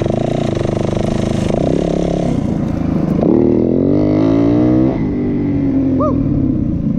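A Yamaha WR450 dirt bike engine roars loud and close as the front wheel lifts in a wheelie, the pitch climbing and shifting through rev changes before easing off, with wind buffeting throughout.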